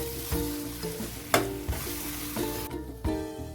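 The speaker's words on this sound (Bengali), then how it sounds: "খুব ভালো করে মিশিয়ে নেব।" Masala-coated chickpeas stirred in a hot pan, sizzling throughout with a series of sharp spatula scrapes and knocks at irregular intervals, close and without talk.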